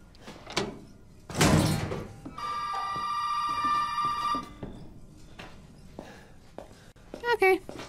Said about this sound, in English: Okay, the phone's ringing again.